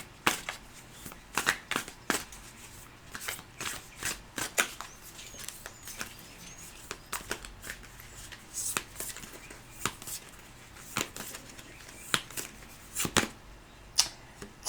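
A deck of Moonology Manifestation oracle cards being shuffled by hand, close and fairly soft, with repeated quick riffling bursts and taps in an irregular rhythm throughout.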